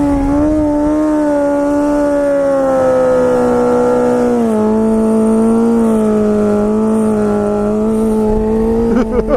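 A motorcycle engine revs hard and holds a loud, close, sustained drone during a wheelie, its pitch dipping slightly midway before climbing again.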